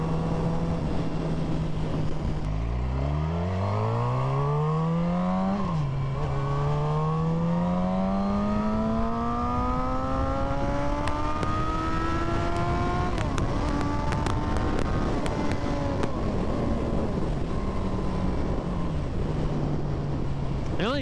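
A new motorcycle's engine revs hard and climbs steadily through the gears to around 10,000 RPM, a loud, close rising whine with harmonic sweeps, a dip at each upshift, and steady wind rush throughout.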